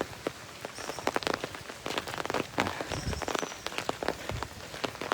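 Steady rain patters down while walking outdoors, with scattered louder drops and taps, continuous and close, with no voices.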